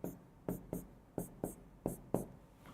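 Chalk or marker writing on a board in a chemistry class, heard as about eight short, sharp taps and strokes in quick irregular bursts, close and clear over a quiet room.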